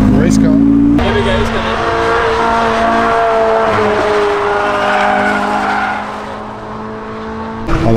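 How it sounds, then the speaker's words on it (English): A race car lapping Castle Combe Circuit, its engine droning loud and steady with squealing, skidding tyres over a continuous roar that eases slightly near the end. "Race car."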